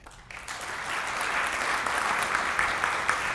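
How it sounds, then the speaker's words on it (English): Audience applause at a college alumni awards ceremony, a steady dense wash of many hands clapping that rises quickly after a brief quiet start and holds at an even level, with no talking over it. "you've been nice with your applause"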